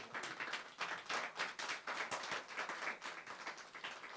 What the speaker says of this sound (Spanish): denle un aplauso al Dios Altísimo